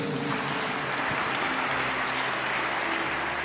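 A church congregation claps in a steady, dense wash of applause that continues without pause, with no voices rising above it.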